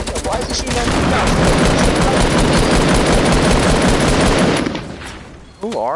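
Rapid automatic gunfire from the video game Fortnite rattles densely and loudly for several seconds, then cuts off, with a brief voice at the end.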